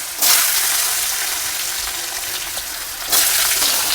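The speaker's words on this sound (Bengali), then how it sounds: "আমি আলুটাকে একটু লাল করে ভেজে নেব, ভেজে নিয়ে বাকি সবজিগুলো দেব।" Potatoes fry in hot oil in a pan with bay leaf, dried chilli and five-spice seeds, making a loud, continuous, close sizzle that surges at the start and again near the end, with no talk.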